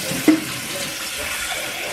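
Water running from a kitchen tap while dishes are washed, a steady hissing stream with a short clatter near the start, continuous and close for two seconds.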